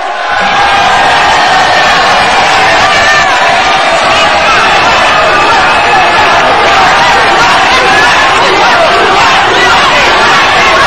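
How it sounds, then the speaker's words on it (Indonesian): A debate audience applauds and cheers for the gubernatorial candidates, a loud, continuous roar of crowd noise with shouting and clapping blended together, sustained at full volume throughout. "saya persilakan tepuk tangan untuk para paslon"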